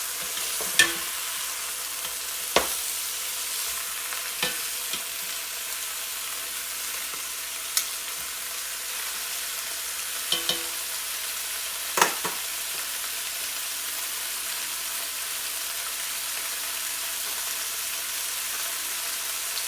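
Lamb shanks caramelizing in a pan give off a steady, hissing sizzle throughout, punctuated by occasional sharp clicks and scrapes as they are moved.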